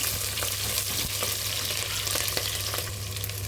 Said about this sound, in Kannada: ಹಸಿಮೆಣಸಿನ್ಕಾಯಿ ಹಾಕ್ಕೊಳ್ತಾ ಇದ್ದೀನಿ. ಸ್ವಲ್ಪ ಎಣ್ಣೆಯಲ್ಲಿ ಬಾಡಿಸ್ಕೊಳ್ಬೇಕು.